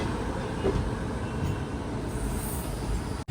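Trains roll past near Chennai Egmore station, a steady low rumble of railway cars with broadband wheel and track noise throughout, the sound cutting off abruptly at the end.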